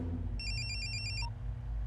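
Mobile phone ringing on an outgoing call, a short repeating electronic ring tone in pulsed bursts over a low steady hum, followed by a brief beep, in a dramatic action-movie scene.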